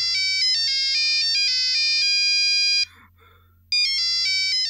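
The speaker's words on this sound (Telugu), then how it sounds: "అదే బావ, అదే ఫోన్ చేస్తుంది." A mobile phone ringtone for an incoming call plays loud and close, a bright repeating electronic melody that pauses briefly before starting again.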